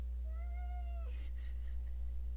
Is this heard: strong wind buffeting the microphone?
no